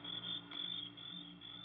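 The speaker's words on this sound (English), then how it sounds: "there wasn't a sound except the crickets, shrilling so loudly the noise seemed to beat inside my brain" Crickets shrill at night in a dense, unbroken high-pitched chorus, loud and continuous, with a faint low hum beneath and no voices.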